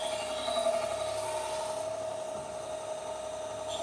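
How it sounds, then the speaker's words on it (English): A knife edge is refined on a 600 grit Trizec belt of a belt grinder, giving a steady, close whirring hiss with a continuous tonal hum that runs unbroken throughout. "this is a 600 grit Trizec belt. This is to refine the edge."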